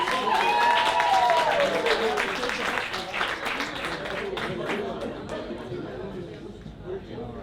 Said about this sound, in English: Let's show it with our round of applause